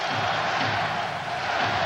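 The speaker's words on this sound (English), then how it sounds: "Crowd standing now, chanting, trying to get the Caps in a position to tie the hockey game." An arena crowd at the 1998 Stanley Cup Final, Game 4 between the Detroit Red Wings and Washington Capitals, stands and chants for the Capitals: a steady, dense roar of many voices filling the building, sustained and fairly loud.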